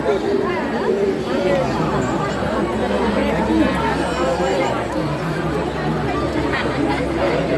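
A packed Diva–Ratnagiri train carriage fills with continuous overlapping passenger chatter, a dense steady babble of many nearby voices with a low rumble beneath it throughout.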